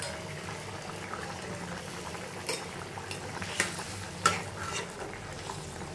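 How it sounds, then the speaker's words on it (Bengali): Rohu fish curry gravy bubbling at a steady simmer in a pot, a low continuous bubbling bed with a few sharper pops and utensil clinks on top, moderately faint and with no talk. "এই দেখো আমার ঝোল টকবক করে ফুটছে।"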